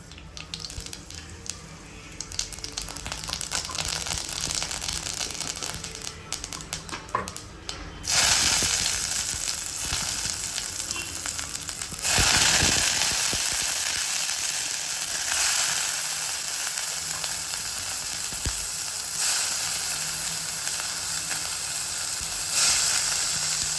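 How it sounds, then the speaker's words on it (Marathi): Tempering sizzles in a kadai for a sprouted moth bean dish, a continuous loud hiss and crackle close by that rises and flares in a few bursts over a long stretch, with no talk. "आता मी यामध्ये फोडणी टाकून घेते."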